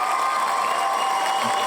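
Studio applause and cheering greeting a returning guest on a Formula 1 review podcast, a steady dense wash of clapping and whoops throughout, fairly loud and continuous.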